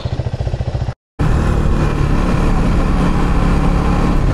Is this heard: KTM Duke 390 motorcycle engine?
yes